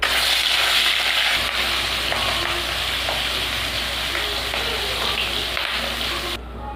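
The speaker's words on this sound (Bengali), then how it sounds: "এবার মাছ ভেজে নেব।" Rohu fish pieces coated in salt and turmeric fry in hot oil in a kadai, giving a loud, steady, crackling sizzle that runs throughout before cutting off abruptly near the end.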